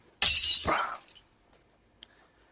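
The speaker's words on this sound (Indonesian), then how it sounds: "banting gelas yang ada di depannya" A glass is smashed: one loud, close shatter bursting and ringing out for about a second, followed by a single faint tinkle of a falling shard.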